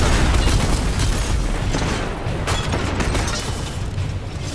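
Rocket barrage in Destiny 2 sets off a continuous, loud rumbling roar of overlapping explosions, dense and sustained from start to finish with no talk.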